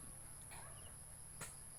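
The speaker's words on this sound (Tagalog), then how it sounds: "ang daming lumilipad na mga insekto guys oh" Steady high-pitched insect drone with faint buzzing passes, quiet and continuous, like flying insects and bees around garden plants outdoors.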